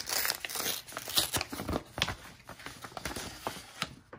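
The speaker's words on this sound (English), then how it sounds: "now it's time, I guess, to open up the envelope" A paper envelope is torn and opened by hand at close range, with a run of crinkling, ripping and rustling bursts over a few seconds and no talking.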